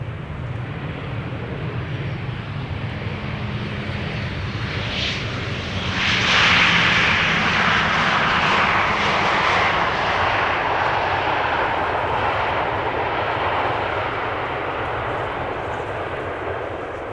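An easyJet airliner lands at Amsterdam Schiphol Airport with a broad engine roar heard from a distance outdoors, swelling partway through and then holding steady as the plane rolls out along the runway.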